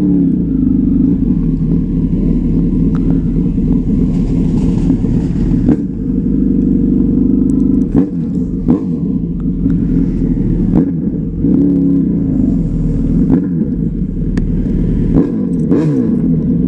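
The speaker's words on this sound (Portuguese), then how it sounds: "Olha o Fusca dando ré." A Volkswagen Beetle reversing, heard as a steady, loud low engine rumble from nearby that runs throughout, with occasional faint knocks and no talking.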